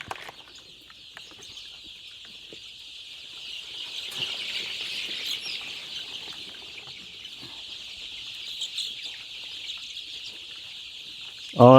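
Poultry chicks cluster around water vessels on a farm during vaccine dosing, a dense steady chorus of high peeping and clucking that swells in the middle, with a brief louder noise at the very end.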